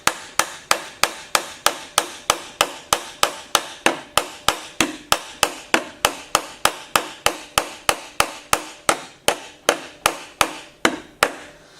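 Rapid, steady hammer blows cold-peen the washer of a rivet on a Louis Vuitton trunk, about thirty sharp close metallic strikes in an even rhythm with no talk.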